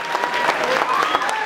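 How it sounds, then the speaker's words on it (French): A concert audience claps steadily, a dense burst of applause from a crowd nearby, with a voice faintly audible over it. "vous pouvez encore les applaudir bien fort"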